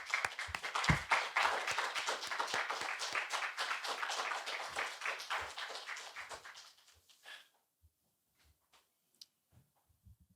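An audience at a lecture hall welcomes a professor to the stage with loud, sustained applause that thins to a few scattered claps and then silence.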